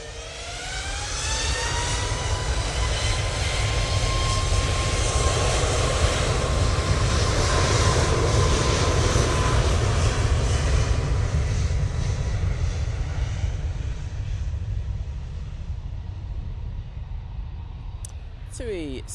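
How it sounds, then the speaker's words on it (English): A TUI Boeing 737 MAX 8 jet rolls for takeoff at Manchester Airport, bound for Madeira Funchal, its engine roar building to a loud, broad rush with a high whine, then slowly fading as it departs. "TUI 737 MAX 8 now on the roll."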